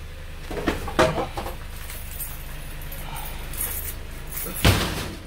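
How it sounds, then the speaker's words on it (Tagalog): A storm door swings shut on a snowy winter day in Winnipeg, giving a few soft thuds early on and one sharp slam near the end over a steady background hum. "Yung pinto, yung storm door."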